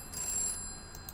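A telephone rings in a video game, a short electronic bell tone heard faintly over low background noise, with no talk.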